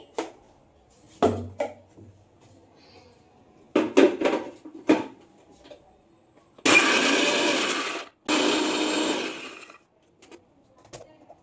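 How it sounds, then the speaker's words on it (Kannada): A kitchen mixer grinder blends tomato and cashew paste with water, giving two loud sustained whirring bursts of about a second and a half each, preceded by clinks and knocks of the jar and lid. "ಮಿಕ್ಸಿ ಮಾಡ್ಕೊಳ್ತಿದ್ದೀನಿ."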